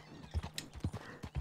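Hooves clop at a slow, steady trot from a horse in the Red Dead Redemption 2 video game. The rhythmic thuds are close and fairly quiet, with no other sound over them.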